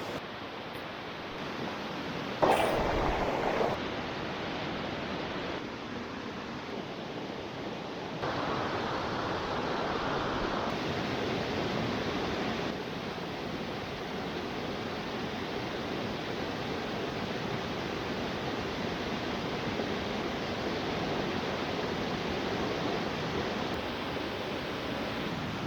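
Steady broadband rush of creek water near Port Douglas, close and continuous, running over rocks, with brief handling bumps early on and no talking.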